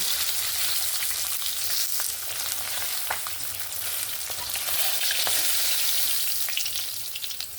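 Silver carp pieces frying in oil in a pan, a steady close sizzle with occasional crackles and pops throughout, no talking.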